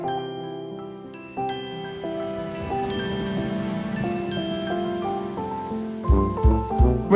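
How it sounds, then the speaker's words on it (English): Steady rain patters beneath a gentle children's tune of sustained musical tones, with a few heavier drops or knocks near the end. "Rain, rain, go away."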